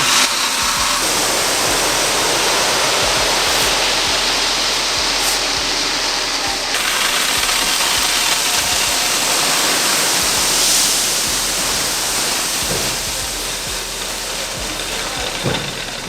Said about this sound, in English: So we're dumping some more gravel. We're gonna fill up the gravel all over the dirt.